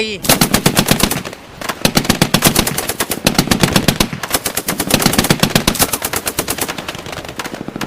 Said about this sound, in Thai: เสียงปืนกลหนักและปืนกลเบา ซึ่งทหารอาร์เจนตินาเตรียม เอาไว้รับมือนาวิกโยธินอังกฤษ ถูกระดมยิงออกมาสนั่นวันไหวไปทั้งชายหาด